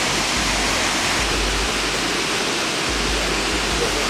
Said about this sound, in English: a view of the waterfalls